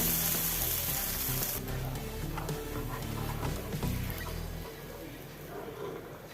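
Tomato dosa fries in oil on a pan, a loud continuous sizzle close up that gradually softens toward the end.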